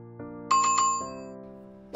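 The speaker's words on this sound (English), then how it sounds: "ring the bell" Bell-like ringing sound effect: a quick cluster of bright metallic dings, then a softer lingering ring, over a faint musical bed.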